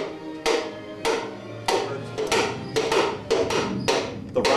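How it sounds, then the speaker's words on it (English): Hammer tapping a piston and connecting rod down into a 396 engine block during a rebuild, about eight sharp metallic knocks at an uneven, unhurried pace, close and loud with no voices. "then we take good old Mr. Hammer and just tap it in like so"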